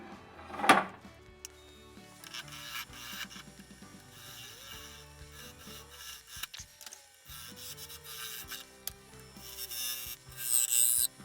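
A wood lathe cuts a tenon on a chunk of silver maple, producing intermittent scraping and rubbing tool-on-wood sounds with a sharp scrape early on and brief mechanical clicks, fairly quiet and close.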